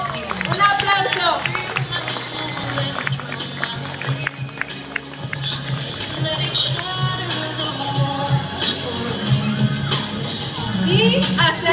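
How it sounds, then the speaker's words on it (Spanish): Applause and cheering from a crowd at a quinceañera, steady and loud throughout, with whoops and shouts, music and an announcer's voice running underneath. "A Rodrigo Estrada. Un aplauso."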